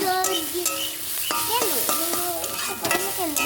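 Food sizzles steadily in a hot pan during home cooking while a utensil scrapes and stirs it in quick irregular strokes, close and continuous.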